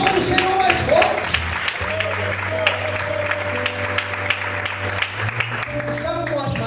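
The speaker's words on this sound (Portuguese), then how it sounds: "Aplaude o Senhor mais forte." A church congregation applauds during an evening worship service, a steady broad wash of clapping with music and voices underneath throughout.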